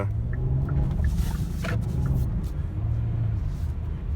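A 2020 Kia Telluride S AWD with its V6 running while driving through snow and slush, a steady low engine rumble with road noise, a few faint clicks, and some talk over it.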